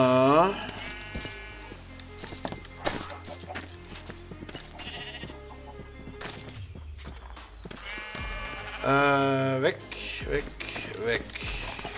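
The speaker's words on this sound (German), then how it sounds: "Die Ziege ist so doof, die stirbt jetzt." Goat bleating in Minecraft, with repeated harmonic bleats near the start and again around the nine-second mark over background game sounds and music, while someone talks throughout.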